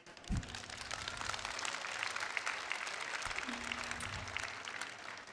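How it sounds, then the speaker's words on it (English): Crowd applause fills an arena at a robotics district competition, a broad, even rain-like clapping that holds steady throughout at moderate distance. "Big round of applause for everybody."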